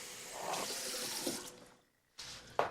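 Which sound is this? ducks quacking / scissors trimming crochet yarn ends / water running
water running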